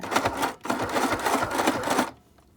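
A cheap, small sewing machine stitches fabric for a face mask in a fast, even rattling run of about a second and a half, stops briefly, runs again, and then goes quiet. It sounds close and clear.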